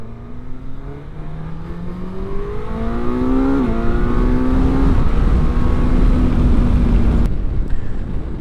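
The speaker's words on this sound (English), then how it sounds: "riding the GX, just cruising down the highway" A Suzuki GSX-S1000GX sport-touring motorcycle cruises on a highway, its engine note rising through gears in a steady climbing hum under constant wind rush, loud and close, with no talking.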